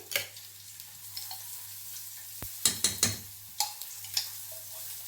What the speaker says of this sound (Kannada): ಇದನ್ನು ನಾವು ಚೆನ್ನಾಗಿ ತಿರುಗಿಸ್ತಾ ಇರಬೇಕು. ಇದಕ್ಕೆ ನಾನು 1-2 ಸ್ಪೂನಷ್ಟು ತುಪ್ಪ ಹಾಕ್ಕೋತಾ ಇದ್ದೀನಿ.